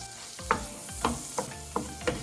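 Garlic sizzling in plant-based butter in a pan, a steady soft crackle broken by several short stirring scrapes at a loose, uneven pace, heard close with no voices.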